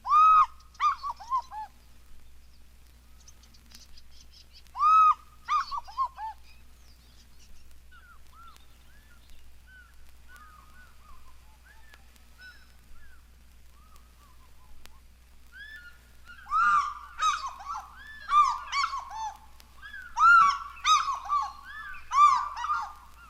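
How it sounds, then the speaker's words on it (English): Birds at Lake Naivasha calling alone or in family groups, loud honking and crowing bursts nearby at the start, then quieter replies from far across the water, and a busy burst of overlapping calls near the end. "birds call either individually or in families those near at hand being answered by others far away over the water"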